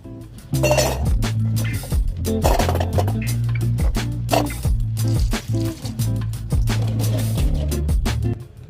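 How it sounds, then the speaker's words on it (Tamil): Jackfruit seeds being washed by hand in water in a metal vessel, with steady sloshing and repeated clinking and scraping of seeds against the container, close and continuous with no talk. "ஃபர்ஸ்ட் இந்த பலா கொட்டைகளை வந்து நம்ம நல்லா வாஷ் பண்ணி எடுத்துடலாம்."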